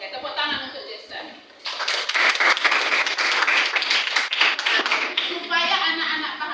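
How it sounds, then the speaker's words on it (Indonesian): Classroom applause for a student during a maths lesson, a burst of many hands clapping in quick irregular claps, loud and close, with a teacher's voice before and after. "Oke, tepuk tangan untuk Jason."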